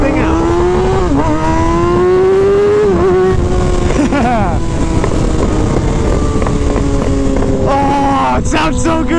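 A Kawasaki ZX-6R motorcycle engine under way while riding, loud and continuous, its revs climbing and dipping through several gear changes with heavy wind rush over the microphone.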